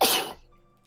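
A single sharp sneeze bursts out close by, loud and brief, then fades quickly into quiet room tone.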